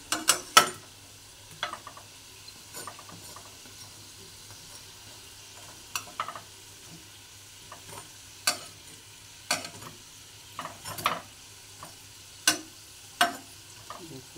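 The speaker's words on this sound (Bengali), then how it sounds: "দেখুন আমার টিকিয়াগুলো প্রায় ভাজা হয়ে গেছে একদম" Tikkis fry in a pan with a soft, constant sizzle, broken by a dozen sharp scraping and clattering strokes of a spatula at irregular intervals.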